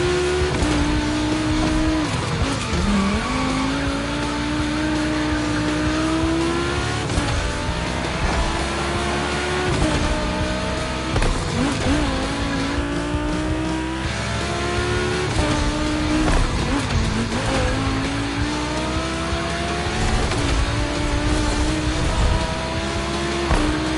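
Volkswagen race cars roar around the track in The Crew Motorfest, engines loud and close with rising and falling revs through gear shifts, occasional tire squeal and other cars passing, continuous for the whole stretch.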